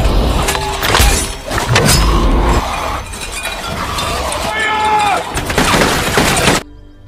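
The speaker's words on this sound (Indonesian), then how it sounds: "tiba-tiba suara tembakan terdengar" Gunfire in a Walking Dead action scene, with bursts of shots, clinks and thuds under loud dramatic music and effects, cutting off abruptly near the end.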